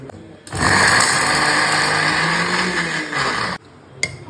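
A kitchen mixer grinder runs for about three seconds, grinding a salted masala filling for stuffed bitter gourd, a loud steady whirring buzz that starts abruptly and cuts off, followed by a brief clack.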